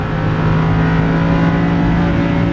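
Lamborghini Huracan LP610-4 engine revving steadily and loudly while the car is driven on a track, a continuous close-up drone with a strong low hum and no pauses.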